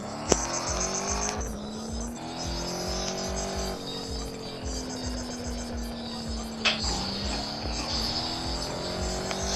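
Sports car driving in the mobile game Gangstar Vegas, a steady synthetic engine drone with repeated gear-shift pitch drops and rises, loud and continuous without talk.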